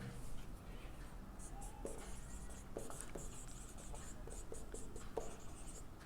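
Chalk or pen scratches out mathematics on a lecture board in short, uneven strokes and taps, moderately close, with faint room noise between marks and no speech over it.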